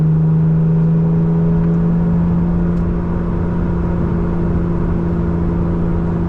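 Lotus Emira engine revving hard and holding high RPM just shy of redline, a loud steady mid-pitched drone with a strong sustained tone throughout and no talk.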